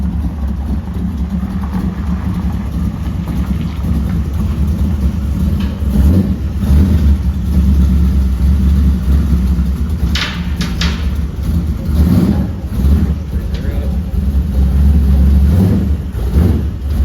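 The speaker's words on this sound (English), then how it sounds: "You gotta give it a couple revs, so we gotta do a sound test before and after." A car fitted with a new Spintech exhaust and X-pipe idles with a deep, loud rumble and is blipped into several short revs, close up and without talk.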